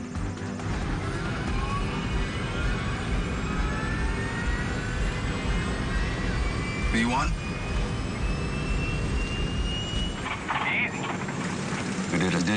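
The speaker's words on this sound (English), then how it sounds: "the sound of the engines is recorded in the background on the cockpit voice recorder" Steady jet engine roar captured in the background of a cockpit voice recorder on an airliner, continuous and muffled with faint rising tonal whine, while crew voices talk over it.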